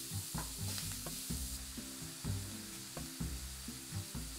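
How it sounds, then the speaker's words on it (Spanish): Garlic, ginger and meat sizzle in a pan while being stirred and sautéed, a steady frying hiss broken by regular close clacks and scrapes of the utensil against the pan. "añadimos la carne y lo salteamos hasta que se cambia el color"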